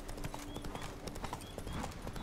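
Horse hooves clip-clop steadily at a riding pace in The Witcher 3: Blood and Wine, a continuous rhythmic beat of hoofbeats over ambient game sound, with no talking.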